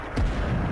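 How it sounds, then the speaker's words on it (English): A single deep, booming enemy artillery impact in the Vietnam war shooter Rising Storm 2: Vietnam, a low rumbling thud that swells and lingers with a rough tail. "Enemy artillery."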